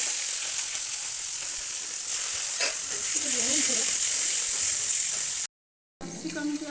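Chopped capsicum frying in hot oil for chilli potol, a loud, steady close sizzle with a stirring scrape midway, briefly cut off near the end before the frying resumes.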